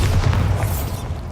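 Bombarda explosion spell in Hogwarts Legacy, a single deep booming blast that rumbles loud and close, then fades over about a second.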